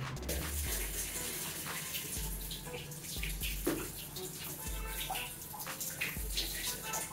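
Water gushes and drains out of an axolotl tank during a water change, a continuous close splashing rush with a few knocks and bumps, alone without talk.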